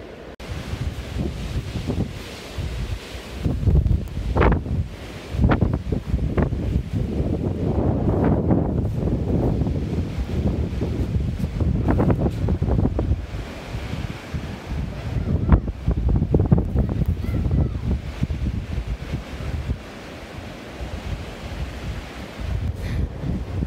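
Blizzard winds on a Minnesota farm during a severe winter snowstorm, loud rumbling gusts buffeting the microphone in surging waves that rise and ease repeatedly over a continuous rushing roar.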